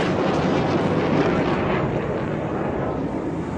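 A PAF JF-17 Thunder fighter jet roars past at the Dubai Air Show 2011, a broad, loud rushing jet noise with a thick low rumble and wind buffeting, sustained for the whole stretch without speech.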